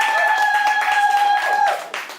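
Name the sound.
audience applauding a party representative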